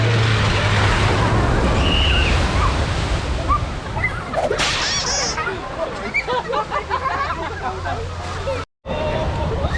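A Vauxhall car pushes through the water at Rufford Ford and stalls, a loud, continuous wash of churning water under the chatter of onlookers talking nearby.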